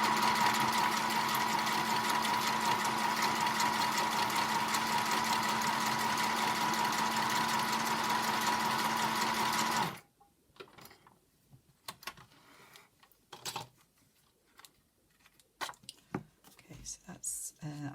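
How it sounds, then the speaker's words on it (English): Small sewing machine stitching a zigzag on cream fabric, a steady, close, continuous whir for about ten seconds that then cuts off, leaving faint handling noises and quiet speech. "I've got my little sewing machine to the side of me"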